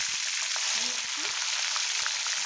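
Green chillies frying in hot oil with mustard seeds, cumin and garlic for a potato curry, a steady close sizzle throughout with faint scraping.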